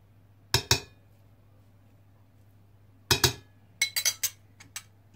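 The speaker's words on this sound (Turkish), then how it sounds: "Birer kaşık da biber ve domates salçası koyuyorum" A metal spoon clinks against a pot while pepper and tomato paste are scooped into a bone-broth soup, with sharp, close taps arriving in an isolated pair and then a quick cluster, over a quiet low hum.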